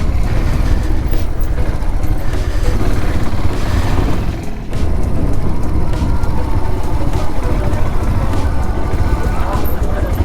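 A motorcycle rides along a Himalayan road near Jageshwar in Uttarakhand, its engine and the wind rushing loud and constant, with a short dip midway.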